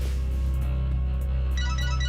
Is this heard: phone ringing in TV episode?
yes